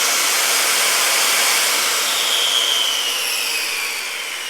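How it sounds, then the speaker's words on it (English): A handheld circular saw motor runs steadily at a high whine, loud and close, holding even before easing down slightly near the end, with no talking. "pull the trigger and get the feel for how is it gonna feel when it turns on, how is it going to feel when the motor is running"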